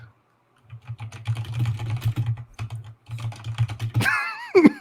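Rapid clattering keystrokes on a computer keyboard, continuous with a short pause, over a low hum, ending with a brief voice.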